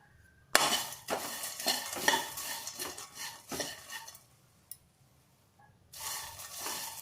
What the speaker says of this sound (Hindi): चने को डालकर इसको भून लेंगे, थोड़ा भून लेंगे जिससे इसका छिलका हट जाएगा।